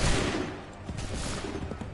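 A ragged volley of massed musket gunfire in Assassin's Creed 3, dense crackling shots overlapping at close range for a couple of seconds.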